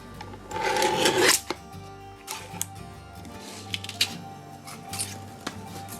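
A cutter slices a strip from an aluminum can art panel, giving a loud rasping scrape near the start followed by quieter scraping strokes and small clicks, close by with no talking.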